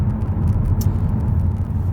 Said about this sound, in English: Petrol engine's there, so both are currently running.